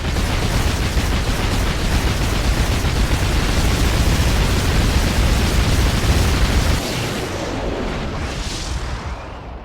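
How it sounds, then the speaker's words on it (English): A cannon blast from the Ammo Baron's cannon in the video game Shantae and the Pirate's Curse: a loud, sustained roaring explosion rumble that holds dense and heavy, then drops slightly and fades toward the end, with no speech. "Risky's targeting Shantae with the Ammo Baron's cannon?"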